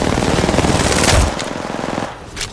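Gunfire in a battle royale video game, with a loud rapid machine-gun burst rattling continuously for over a second, followed by sparser shots and impacts that fade back.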